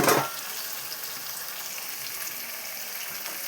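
Okra frying in a pan gives a loud, steady sizzle that starts with a brief louder crackle and then continues evenly on its own with no talk.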